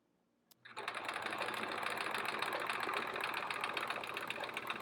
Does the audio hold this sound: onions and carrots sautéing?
no